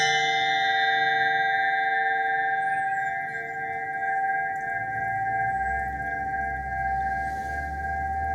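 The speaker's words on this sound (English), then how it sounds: "we're going to chime this" A chime struck during a sound therapy session with pranayama breathing, its bright sustained tones ringing and slowly decaying over a low hum, with no talking.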